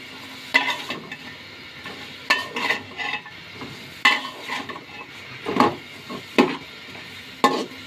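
Shrimp and bottle gourd shoot greens stir-frying in a pan with a little water, giving a steady soft sizzle broken by repeated sharp scrapes and clinks of a spatula against the pan, close by, with no talk.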